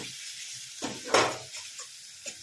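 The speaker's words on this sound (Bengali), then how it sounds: "এখন ভালো করে কষিয়ে নেব।" Spices with garam masala frying in ghee, a soft steady sizzle broken by a few scraping stirs of a utensil against the pan, close and alone without speech.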